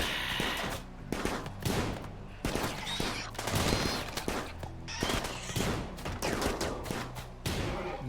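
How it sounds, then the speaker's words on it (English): Rapid turret gunfire rattles through a RimWorld battle, dense repeated bursts of shots continuing for several seconds with brief gaps, loud and close. "they're gonna blow up the plasteel turret"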